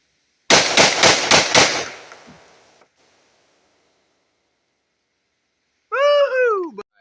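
A Remington Sportsman 48 12-gauge shotgun fires five rapid, loud blasts in quick succession at a range, the echo fading before a person whoops excitedly a few seconds later.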